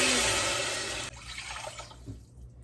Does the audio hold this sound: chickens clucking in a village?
no